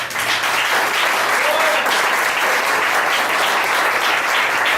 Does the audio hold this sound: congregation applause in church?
yes